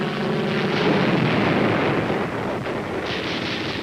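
American planes swoop low past the National Palace, making a loud, sustained roar that fills the whole stretch and shifts slightly in tone as the aircraft pass overhead. No voices are heard.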